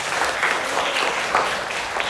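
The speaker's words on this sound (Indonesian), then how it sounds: "Tepuk tangan buat kalian semua." Classroom students applaud together in a steady, dense patter of clapping that holds at an even level for about two seconds, with no talk over it.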